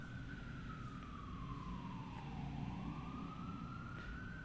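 A siren wails in the distance, its pitch sliding down and back up over steady low traffic rumble, with no talking.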